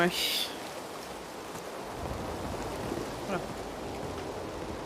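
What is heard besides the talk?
storm with rain and thunder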